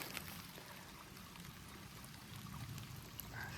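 Faint water trickles from a small seep that runs under a hiking trail on the Appalachian Trail. The babble is soft and continuous, with a low outdoor rumble underneath.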